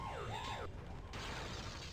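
Warbling electronic siren from enemies in the game Spyro 2: Ripto's Rage, sweeping up and down in pitch twice before cutting off, followed by a falling synthetic whoosh, loud and alone.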